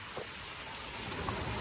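A short stretch of rain falling, a soft, even hiss of drops close by at low volume, with no voices.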